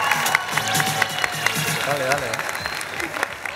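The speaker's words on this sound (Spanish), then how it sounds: "aplauso para Estrellita" A game-show studio audience applauds a contestant with dense, lively clapping and some cheering, while a voice speaks briefly over it.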